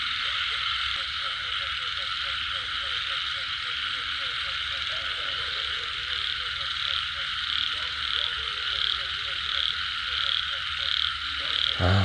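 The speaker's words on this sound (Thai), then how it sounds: "กบตัวผู้ผม" Male frogs croak steadily in a rainy-season night chorus at around three in the morning, a dense rhythmic calling close by that holds for the whole stretch over a constant bed of insect-like hiss.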